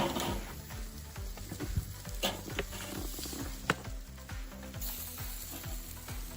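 Steaks sizzle loudly over a very hot grill fire, a dense continuous crackle and hiss with occasional sharper pops, close up with no talking.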